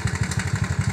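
A motorcycle engine runs at a gas station with a steady, rapid thumping idle, loud and close, its pulses evenly spaced and no voices heard.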